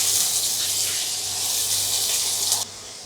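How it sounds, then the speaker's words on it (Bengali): Chopped onions fry in a pan as they are browned for a mutton rezala, giving a steady, close hiss and sizzle with no talk over it. "পেঁয়াজটা আমি ভেজে নিচ্ছি একটু হালকা বাদামি করে"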